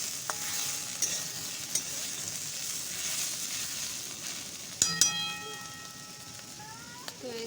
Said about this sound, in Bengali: এবার আমি এর মধ্যে অল্প করে জল দিয়ে দেবো